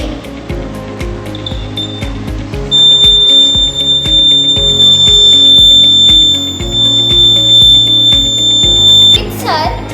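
An alarm circuit built on a breadboard with a buzzer, LEDs, resistors and battery sounds a loud, steady high-pitched electronic tone in a school technology workshop, over constant background noise and voices.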